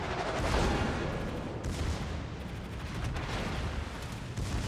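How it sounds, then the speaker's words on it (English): The Tirpitz's secondary guns fire repeatedly in World of Warships, a steady barrage of booming shots with rumbling blasts layered over each other. "So our secondaries are going to get to work on this new Mex."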